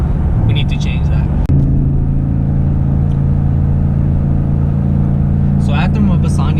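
A 2014 Ford Mustang GT with a Borla S-Type cat-back exhaust and off-road X-pipe rumbles loudly at a deep, steady idle after a brief rev, with a voice talking faintly at the start and end.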